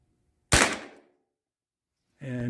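A single loud rifle shot fired from a tripod cracks out close and sharp, decays over half a second into silence, then a voice begins talking.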